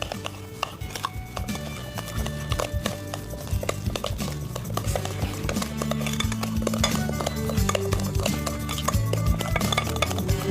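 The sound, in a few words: mixing potato pudding ingredients with sugar in a bowl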